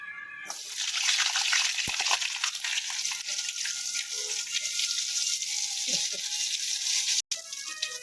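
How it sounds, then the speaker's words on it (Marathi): Butter hitting a hot pan while making pasta, a steady close sizzle and crackle that sets in abruptly and runs on with occasional clinks, briefly cut off near the end. "आता याच्यामध्ये टाकते मी बटर बघा मी याच्यामध्ये टाकते बटर"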